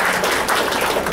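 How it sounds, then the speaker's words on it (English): Audience applause at a general membership meeting, a short dense burst of many hands clapping at a steady loud level with no voices over it. "Let's give him a round of applause."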